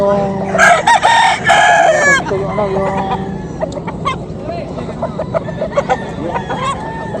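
A rooster crows loudly up close, followed by clucking and murmuring voices in a busy outdoor Friday market in Bocaue where fowl are bought and sold.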